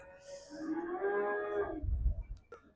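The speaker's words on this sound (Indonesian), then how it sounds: "Ini sapi Bali." A Bali cow lets out one drawn-out moo, close and clear, followed by a brief low thump and quiet.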